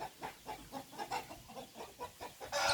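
Burmese chickens bred at a home yard cluck in a quick, rhythmic series of short calls, close by, ending in a burst of rustling noise.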